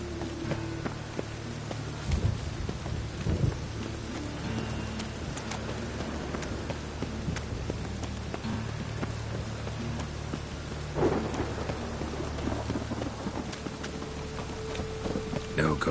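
Steady rain in The Witcher 3: Wild Hunt thunderstorm, a constant wash of downpour with a few low thunder rumbles and thuds rising briefly, plus a faint sustained tonal hum in the background.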